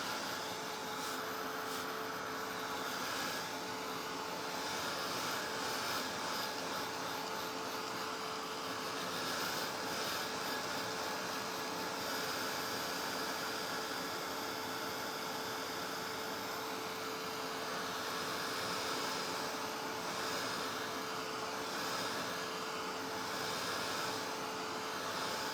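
A dryer blows steadily to dry wet paint on a sunflower door hanger, a loud continuous whooshing drone that holds unchanged throughout with no voices.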